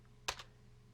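Two quick keystrokes clack on a computer keyboard, close and fairly faint, a sharp tap followed by a softer one against quiet background hum.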